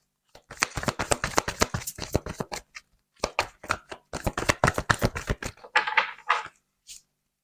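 Tarot cards being shuffled by hand, heard as rapid, crisp riffling bursts in close, dry clusters, with short pauses between rounds and a lighter flutter near the end.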